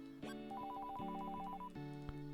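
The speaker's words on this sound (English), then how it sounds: "It's ringing." A telephone rings with a bright electronic ringtone, a quick repeating melodic pattern of tones that starts abruptly and cycles twice, fairly quiet and heard alone without talk.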